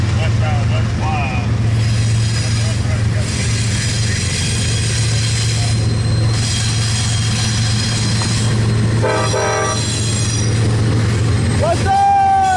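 A CSX intermodal freight train rolling past, a loud steady rumble of wheels and railcars with a constant low drone, occasional metallic squeals, and people talking over it.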